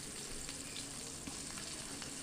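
Potato pieces hit hot oil in a pan for a mixed-vegetable labra, giving a faint, even, continuous sizzle with a few small pops and stirring sounds, no talk.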